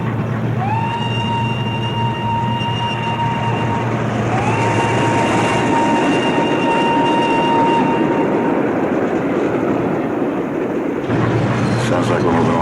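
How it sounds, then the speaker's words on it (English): A moving train heard from inside a truck carried on board gives a steady low rumble, with faint long tonal whines rising and holding over the noise and a shift in the rumble near the end. "Sounds like we're moving along with the train."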